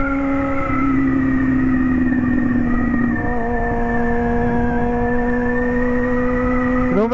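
Car pulling away and accelerating on the drive home: a loud, close engine drone with a steadily held rising whine, ending in a quick sharp rev sweep.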